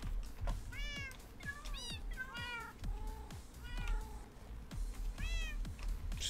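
Several cats meow in Minecraft as they swim through water, a run of repeated high meows from different animals, some overlapping, over quiet in-game ambience.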